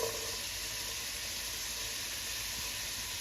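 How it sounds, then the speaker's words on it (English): Bacon and onions sautéing together in a skillet, a steady loud sizzle and hiss of frying in rendered bacon fat that continues without a break. "we're going to saute the bacon with the onions together"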